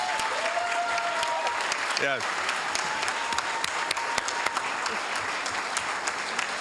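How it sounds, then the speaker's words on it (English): A city council chamber audience applauds the Cal State East Bay men's basketball team, steady, sustained clapping from a sizeable crowd, with a brief spoken voice and scattered sharper claps standing out. "let's give the Cal State East Bay men's basketball team a big round of applause"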